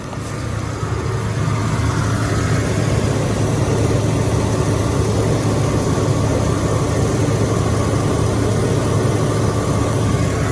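A 1995 Ford F150 Supercab 4x4 pickup idles steadily up close, a continuous low rumble with a constant hum, running alone with no voices on a hot day.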